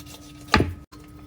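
A knife chops down once onto meat with a bone on a cutting board, a single loud close thud followed by near-silence.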